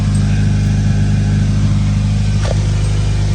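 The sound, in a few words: 2013-19 Nissan Sentra engine running with new replaced muffler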